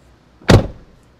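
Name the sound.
2025 GMC Terrain car door shutting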